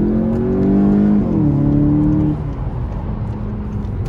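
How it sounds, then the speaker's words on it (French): A Volkswagen Golf 7 GTI engine revs hard under full acceleration, its close, loud tone climbing, then dipping at a gear change before settling into a lower steady drone. "Je suis à 2500 tours minutes et on va écraser la pédale."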